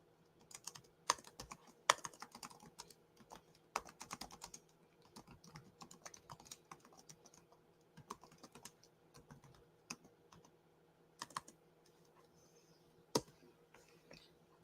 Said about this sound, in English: I'm just typing into Facebook to let them know to come on